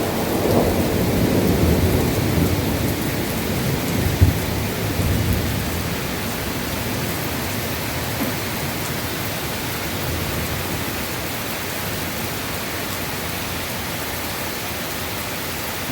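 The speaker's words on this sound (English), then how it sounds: "It is raining like crazy." Heavy rain pours during a thunderstorm, a dense, constant hiss of downpour filling the whole stretch, with a low rumble of thunder swelling early on and a brief sharper knock near the middle.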